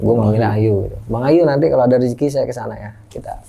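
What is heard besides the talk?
None of the usual background noises is heard.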